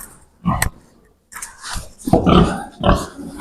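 Pigs in a new barn grunt and squeal up close in several loud bursts separated by short pauses, with no talking.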